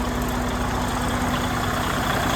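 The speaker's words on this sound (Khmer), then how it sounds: "ម៉ាស៊ីនវា" A vehicle engine idles steadily with a constant low hum and a faint whine, moderately loud and unchanging throughout, with no talking.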